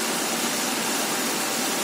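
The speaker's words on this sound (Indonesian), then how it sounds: "Nah ini kan RPM-nya sudah tinggi" A carburetted car engine revving at high RPM after carburetor adjustment, a dense, steady roar heard up close with no pauses or talk.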